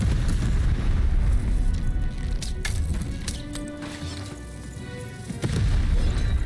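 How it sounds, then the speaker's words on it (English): A cannon fires in the video game Lost in Random: loud booming blasts with sharp cracks, the low rumble swelling and fading over several seconds, with a few brief impacts in the middle. "Shoot the button to fire the cannon."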